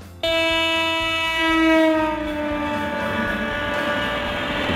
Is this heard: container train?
yes